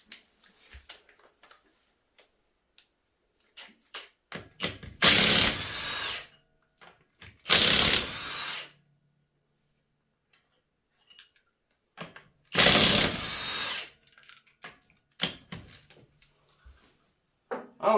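Power tool spinning off the 21 mm lug nuts on a 2023 Ford F-150: three loud, close bursts of about a second each, separated by quiet gaps with small clicks and handling noises.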